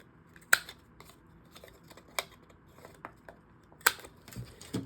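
Sharp snipping as the corners of a folded vellum pocket flap are rounded with scissors: a few distinct close cuts spaced apart, with quiet paper handling in between.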